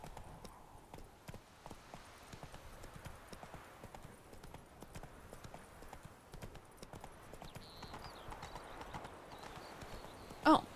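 Hooves of a horse galloping in The Witcher 3 video game, a steady close clip-clop rhythm that runs throughout, with a short whinny near the end.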